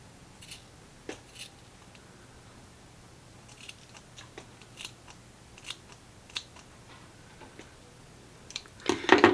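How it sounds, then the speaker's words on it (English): Scissors cutting curly hair straight across, a series of soft, close snips at irregular intervals, getting louder at the end. "So this first section, I'm just cutting like straight across."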